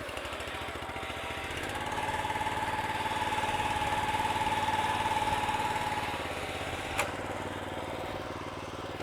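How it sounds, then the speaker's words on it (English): A lawn mower engine throttled back as it crawls down a sloped yard: a steady, continuous drone that swells slightly midway then eases, with one brief click near the end. "I'm gonna throttle back a little bit and just let the mower kind of walk down the hill, kind of crawl down, disengage"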